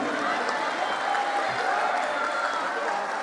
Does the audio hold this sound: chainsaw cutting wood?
no